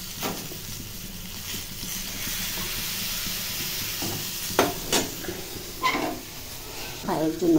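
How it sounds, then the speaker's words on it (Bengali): Eggplant slices fry in a pan on a home kitchen stove, giving a soft steady sizzle and hiss. A few sharper clinks of stirring and a voice come in toward the end. "বেগুন ভাজা করছি।"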